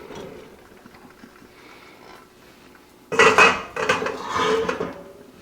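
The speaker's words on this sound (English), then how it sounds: "Into the pot the meat goes." Cooked meat tipped from a metal strainer into a cooking pot while making spicy chili, giving a sudden loud clatter and scrape of metal on metal after a quiet stretch, followed by a second burst of clanking.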